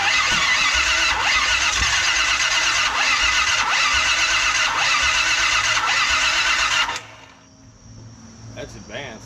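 A 1976 Chevy K-20 engine cranking with the timing set too far advanced, so it bucks against the starter in a loud, steady labored churn with rhythmic lurches that stop abruptly after about seven seconds, followed by faint shop noise.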